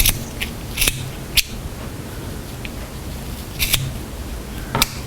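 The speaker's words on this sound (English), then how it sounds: "These aren't the best scissors to use for this, but you get the idea." Scissors snip loose yarn ends on a crocheted bunny, producing a few sharp, close clicks spaced unevenly over a faint hiss.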